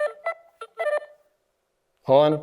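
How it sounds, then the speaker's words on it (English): Short electronic phone ringtone notes play in a quick, choppy burst of chirps and beeps, then stop before a person speaks briefly. "These are ringtones."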